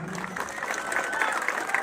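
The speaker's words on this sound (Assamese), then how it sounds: "সকলো দৰ্শকৰ পৰা এটা জোৰদাৰ হাত চাপৰি কামনা কৰিছোঁ" An audience at a football final's prize ceremony in Dudhnoi claps in a brief, scattered burst of applause that sounds fairly distant and moderate in level.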